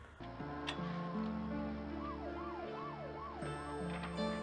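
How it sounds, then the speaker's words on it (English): Sirens from the 1984 film Nightmare on Elm Street wail up and down in a steady, rolling pattern, faint and distant under sustained low musical tones, with no voices. "It'd be hard to sleep with all those sirens going on."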